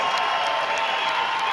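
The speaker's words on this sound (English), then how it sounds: "Let's give them a tremendous round of applause." Crowd at a Fight4Pride combat-sports event applauding and cheering after a hard-fought bout, a steady dense wash of clapping and cheers with no gaps, loud and close throughout.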